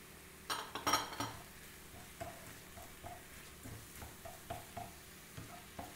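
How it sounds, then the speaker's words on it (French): Minced meat stirred in a frying pan with salt and spices, a soft steady sizzle under repeated scraping strokes of a utensil and a few light clinks against the pan, close and fairly quiet, no talking. "Pour la cuisson, il faut qu'on tourne environ 5 à 10 minutes, pas plus."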